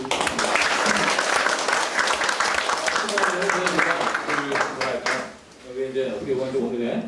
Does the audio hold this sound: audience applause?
yes